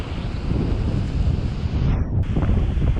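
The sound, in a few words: sea waves and wind on the shore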